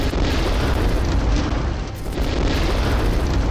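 Bombs dropped by aircraft in a World War strategy game explode in a dense, rumbling, continuous boom with crackling bursts, loud and close.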